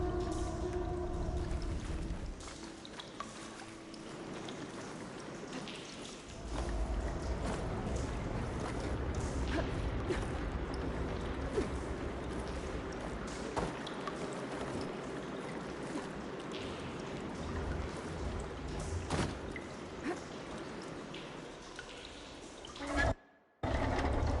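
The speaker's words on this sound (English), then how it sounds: "Aloy, I can hear water in the room again." Water rushes and gurgles steadily through pipes in an indoor room of Horizon Forbidden West, a continuous full flowing wash with deep hollow resonances, lasting throughout before a brief drop near the end.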